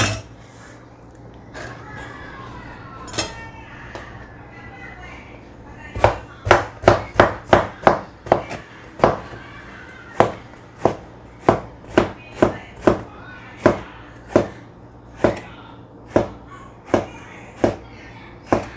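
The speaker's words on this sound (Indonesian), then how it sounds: "potong-potong ya sesuai selera." A knife chops vegetables into small pieces on a cutting board. Scattered cuts give way to a steady run of sharp, close thuds, about one every half second to a second, over a faint background.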